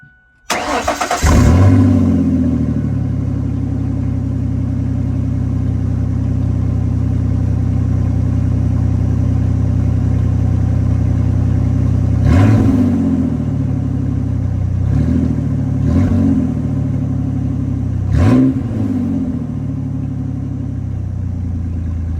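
A 2000 Ford Ranger with a 3.0L engine and a Dynomax Ultra-Flo stainless cat-back exhaust cranks and fires, then settles into a steady, loud, rumbling idle close by, broken by four sharp throttle blips later on.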